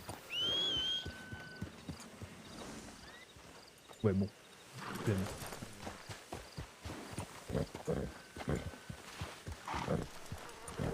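Hooves clip-clop at a walking pace as a horse is ridden, with scattered thuds over a steady ambient hiss. Someone speaks briefly in French between the steps.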